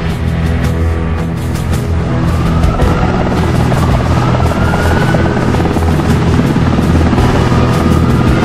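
A helicopter carrying the president to Trenggalek, its rotor pounding loud and close in a steady, continuous thrum from start to finish.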